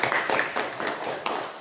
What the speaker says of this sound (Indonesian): Jadi tepuk tangan untuk kalian semua.